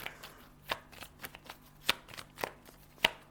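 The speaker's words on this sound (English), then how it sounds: "I hope that's not shuffling too loud in the microphone." Tarot cards being shuffled in a series of crisp riffling bursts, several sharp flicks spaced unevenly, close and fairly quiet.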